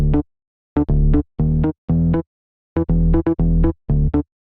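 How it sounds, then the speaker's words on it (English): Recorded Fender bass one-shots play as short, punchy plucked notes in a syncopated pattern, each note clean and separated by silence, loud and close. "We have a one shot from a Fender bass we recorded"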